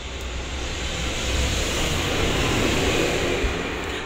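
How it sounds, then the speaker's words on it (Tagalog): An airplane passing overhead in Times Square, New York, heard as a loud, broad, steady roar that swells slightly and fills the whole stretch without any talk. "At may dadaan na eroplano."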